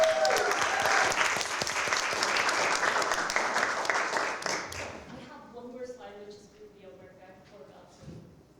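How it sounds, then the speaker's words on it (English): Audience applause at an academic symposium panel, a dense burst of clapping that fills the room for about five seconds, then thins out and fades as a voice begins speaking. "Can we give another round of applause just to all of our panelists?"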